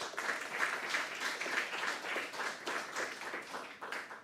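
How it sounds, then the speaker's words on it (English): An audience at a talk applauds to welcome a speaker, a steady wash of many hands clapping together at moderate distance, sustained without pause throughout. "allow us to please give Daniel and welcome him with a round of applause."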